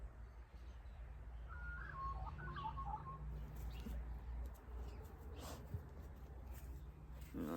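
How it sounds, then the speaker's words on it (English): Small birds call outdoors in a short burst of faint chirps and twitters early on, over a steady background hum with occasional soft knocks and noises. "I love bird noises."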